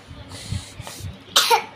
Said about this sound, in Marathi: आता खरंच खोकला आला